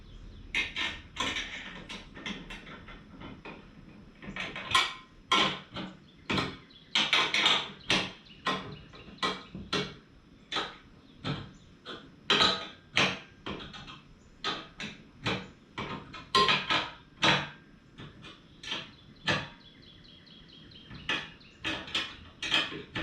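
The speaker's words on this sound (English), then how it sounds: "I'm just sort of snugging them just so that I can get these brackets secured here with this piece" Brackets on a towable boom broadcast sprayer with a 31-gallon tank are snugged down by hand, giving a long series of sharp metallic clicks and ratcheting taps in irregular bursts, close and fairly quiet, with no talk.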